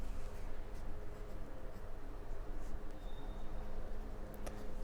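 A pen or brush scratches steadily on paper while the Chinese character ban is written by hand, a faint, continuous close-up rasp with small strokes and no voices.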